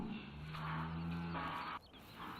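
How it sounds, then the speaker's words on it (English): Cattle low in Farming Simulator 17, with several drawn-out moos running back to back over steady farm ambience, then a brief dip before another moo starts. "So we have water for the cows here. We have a few cows in,"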